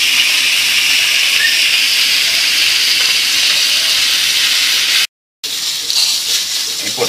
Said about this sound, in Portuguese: então nós vamos chapear essa carne